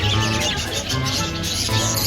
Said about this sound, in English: Look at those pretty little red chicken parrots